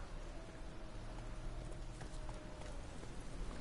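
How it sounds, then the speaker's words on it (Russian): A horse's hooves clip-clop at a quick, steady gallop in the video game The Witcher 3: Wild Hunt, close and continuous under dense ambient noise, with no talk. "Лошадка."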